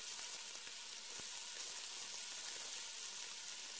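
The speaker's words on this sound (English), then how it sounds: "We're only going to brown in about a tablespoon of oil." Floured beef pieces brown in about a tablespoon of oil in a pan for beef bourguignon, giving a steady, even sizzle throughout with a few faint clinks, quiet and unbroken, no talking.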